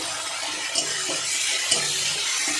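Masala being fried and stirred in a pan, for a parshe fish and new cauliflower curry: steady close sizzle with a couple of sharp scraping strokes of the spoon, no talking.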